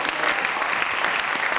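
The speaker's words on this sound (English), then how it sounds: "Give me a clap over." A church congregation at a sermon claps together, a dense, fairly loud burst of applause that carries steadily through the short span.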